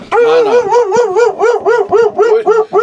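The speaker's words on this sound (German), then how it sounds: "Er bellt zu Recht jetzt." Dog barking loudly and close beside a converted Morelo motorhome, a rapid string of about ten high, yelping barks in steady succession with no pauses.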